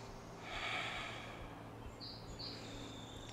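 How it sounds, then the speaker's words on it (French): Birds sing outdoors during a morning yoga session: a few faint, high chirps and short whistled notes sound in the distance over a steady low background hum, with soft breathing heard earlier. "J'espère que vous entendez bien les oiseaux."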